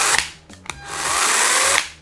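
A Dedra 18V cordless saw from the SAS+ALL battery system runs loud and close for about two seconds, with brief dips as the trigger is released and pressed again.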